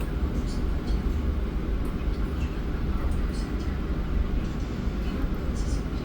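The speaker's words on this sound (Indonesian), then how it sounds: "Ini ada kereta masuk di stasiun Bekasi." The Fajar Utama Jogja train from Pasar Senen to Yogyakarta pulls into Bekasi station with a loud, steady rumble and heavy low-end roar of wheels on rails. Faint talk sits under the noise throughout.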